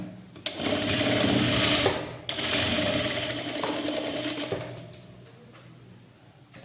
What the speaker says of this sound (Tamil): இப்போ வச்சு தையல் போட்டுருக்கோம்